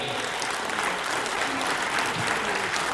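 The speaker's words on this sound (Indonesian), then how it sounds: "Kita kasih tepuk tangan yang pertama untuk tuan rumah dulu" Audience applause at a city humanitarian event in Surabaya, a steady dense clapping from a large crowd that fills the whole moment at an even level.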